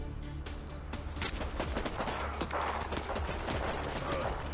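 Dense bursts of gunfire from soldiers in the war strategy game Warpips, a steady rattle of overlapping shots filling the whole stretch at fairly high level with no one talking over it.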